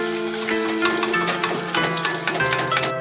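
Mackerel miso cutlet deep-frying in hot oil, a dense, steady crackle and sizzle that runs close and continuous with no talk over it.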